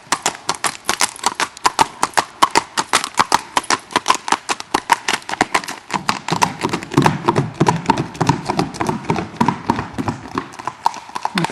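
A black-and-white spotted saddle horse walks with a smooth gait, its hooves clip-clopping in a steady, even rhythm, close and loud, with no voices.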